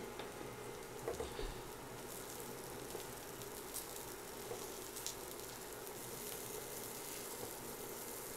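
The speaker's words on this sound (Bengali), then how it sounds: "ভাজা হয়ে গেছে পেঁয়াজ আর রসুন সব কিছু ভাজা হয়ে গেছে" Onion and garlic frying in a pan for a Bengali brinjal and tomato bharta, a steady soft sizzle and crackle running throughout at low level with occasional small pops.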